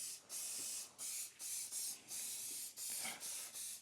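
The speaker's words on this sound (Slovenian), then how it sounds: "Fino ga je lepo takole pa malo našpricati, da se umazanija lepo parema gor." Several short hissing bursts of cleaner spray hit a motorcycle air filter in a home garage, evenly spaced and close, with quiet gaps between each squirt.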